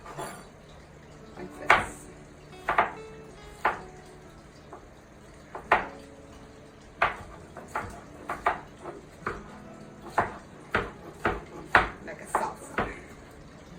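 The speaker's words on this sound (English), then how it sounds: "for the tomato, you slice it into squares" A knife cutting tomato into squares on a board for bruschetta, giving irregular sharp chopping taps that come closer together toward the end, with a person talking over them.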